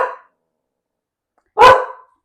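Two short dog barks, one cut off at the very start and a second loud, close bark about a second and a half later, with silence between and no talk.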